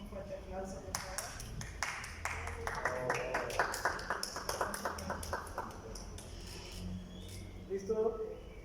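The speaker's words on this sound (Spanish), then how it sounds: "Un fuerte aplauso, por favor." Audience applause for an honoree at a book presentation event, a steady wash of many hands clapping that swells and fades over several seconds, with a voice speaking over it toward the end.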